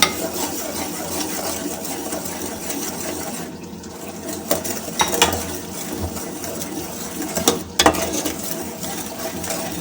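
Tomato paste stirred into fish curry masala frying in a pan, a steady dense scraping and sizzling texture with a few sharper utensil knocks near the end, no voices.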